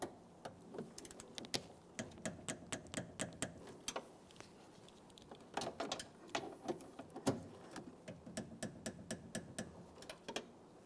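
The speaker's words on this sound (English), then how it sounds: "snug them up, and then I'm going to torque these to 80 inch-pounds" Mirror mounting bolts on a 2014-2018 Mazda 3 are snugged and torqued to spec with a hand tool, giving a faint, irregular series of sharp clicks and ticks, close by, with no voices.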